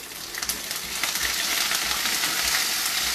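Curry leaves hit hot oil after garlic has browned, bursting into a loud, steady crackling sizzle that builds within the first second and holds close and bright throughout, with no voices.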